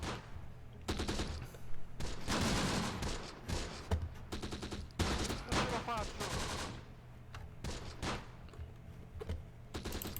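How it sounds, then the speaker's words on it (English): A .30 cal machine gun team in a Close Combat battle set in Sicily fires repeated bursts, with several loud volleys and rattling gunfire across the scene among scattered crackling shots. "it looks like we are under fire by a 30 cal team"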